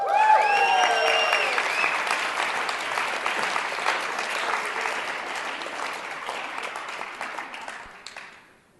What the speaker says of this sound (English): I want everybody to give death a round of applause.